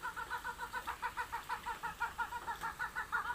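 Chicken clucking in a steady rhythmic series of short calls, moderately close and fairly quiet, continuing without pause and with no voices over it.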